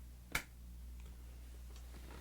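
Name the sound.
hand clap to mark start of take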